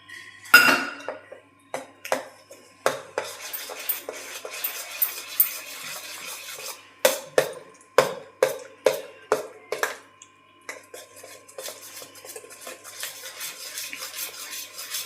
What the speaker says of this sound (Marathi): चला तर आता आपण यामध्ये अर्धी अर्धा चमचा बेकिंग सोडा टाकूया आणि अधून हलवून घेऊया